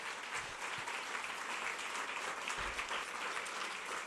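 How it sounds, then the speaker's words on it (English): An audience at a public civic meeting applauds, a dense steady patter of many hands clapping throughout at moderate volume. "Give them one more round of applause."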